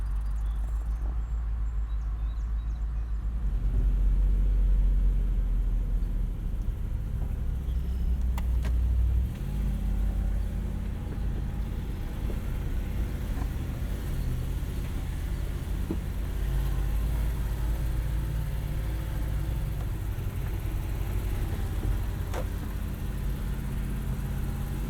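A 240,000-mile 2006 Toyota 4Runner with a 4.7 V8 crawls through soft sand off-road in 4-low, its engine a steady, close, low rumble with no talking.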